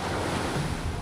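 Ocean surf washing onto a beach in the Philippines, a steady broadband wash of breaking waves with wind buffeting the microphone, continuous and fairly loud with no voices.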